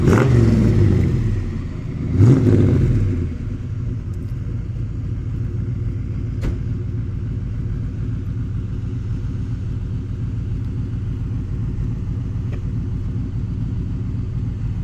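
A custom car built on Holden parts, with an HT Holden front end, fires up with a brief rev, then settles into a deep, steady rumbling idle, close and loud with no talking.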